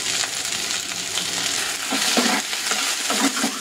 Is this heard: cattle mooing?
no